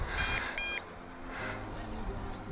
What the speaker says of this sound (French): il commence à biper, parce qu'on arrive à 2 barres